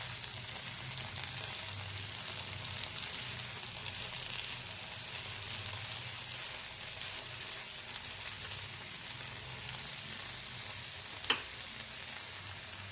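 Tomato, green chillies and onion fry in a pan with a steady, quiet, even sizzle and hiss, broken once by a single brief clink near the end.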